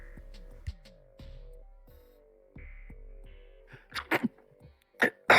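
A person sneezes during a tabletop dice game session, a couple of sharp, close bursts near the end after a stretch of quiet room hum and faint clicks.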